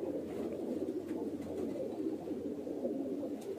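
Pigeons coo in a low, continuous murmur of overlapping calls, close and moderate in level, with no talking.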